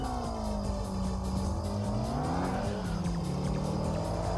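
Nissan S13 Silvia racing a Porsche on a Gunma mountain road in the Kaido Racer video game, a loud continuous engine howl with shifting pitch, overlapping rival engine tone and tire squeal.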